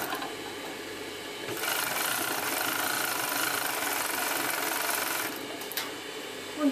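An overlock sewing machine runs steadily for a few seconds as it stitches a fabric pocket bag, a fast even whirring hum that starts and stops cleanly, close and moderately loud.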